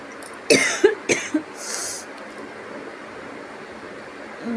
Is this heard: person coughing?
yes